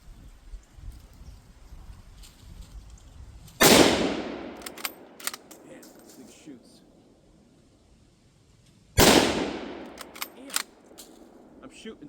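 Two sharp, loud Carcano rifle shots crack several seconds apart, each followed by a decaying echo, with faint clicks and quiet handling noise between them.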